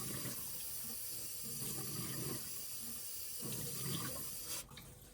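Rice is rinsed in water and the water poured off, heard as a steady close splashing and rushing flow that swells and eases in bursts before cutting off sharply at the end, with no voices.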